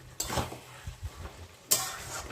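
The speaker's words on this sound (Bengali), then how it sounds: "সেই মশলাটা ভাজা মশলাটা ভিতরে মিশিয়ে দিলাম" Cabbage being stirred with a fried spice mix in a cooking pan, giving a few scraping strokes and soft knocks of a spoon against the pan over a light sizzle, close and fairly quiet.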